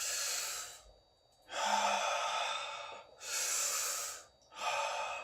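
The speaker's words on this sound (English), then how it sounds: "take deep breaths" Slow, deep breaths alternate in and out, about four long airy inhalations and exhalations with short pauses between, close and clear with no talking.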